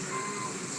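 A tow truck backs up with a steady, continuous reversing tone, heard alone at moderate distance against a dense background hum.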